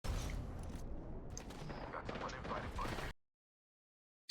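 Gunfire in a team-based shooter video game, a dense continuous burst of shots and explosions at steady loudness for about three seconds before cutting abruptly to silence.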